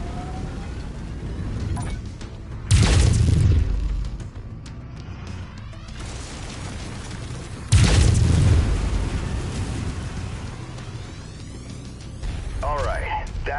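Mech weapons firing in MechWarrior 5: Mercenaries, lasers in a practice firefight: two heavy, booming blasts several seconds apart, each with a long rumbling tail, over a steady mechanical hum and electronic whines, with a voice talking throughout.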